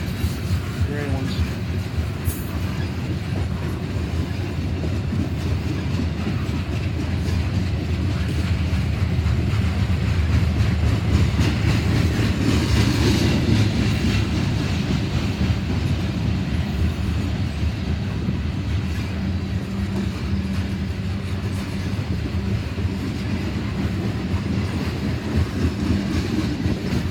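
A loaded Norfolk Southern coal train rumbles past at Siam in a long, steady roar with clickety-clack of wheels and some wind buffeting, while a person talks intermittently over it.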